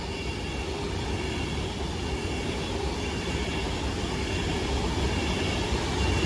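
A Class 390 Pendolino on the London Euston to Manchester Piccadilly service passing through Watford Junction, a loud continuous rumble and roar of wheels and traction heard close by for the whole stretch.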